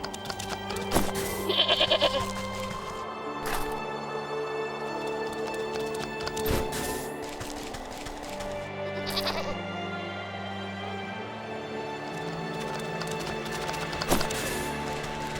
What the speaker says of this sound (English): Where's the other goats?